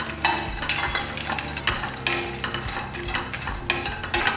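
Cashew nuts and raisins roasting and being stirred in a hot pan for payasam, with a steady close sizzle, scraping stirs and occasional clinks of a utensil against the pan, no talking.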